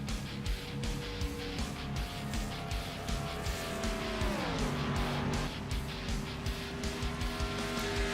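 Race cars roar around an oval in an online sim racing game at Eagle Creek Speedway, engines droning steadily and loud, with a pack of cars sweeping past and shifting pitch midway through.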